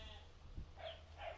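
A goat bleats twice on a farm in Bachok, Kelantan, two short nasal calls in the second half of the clip over a low steady background hum.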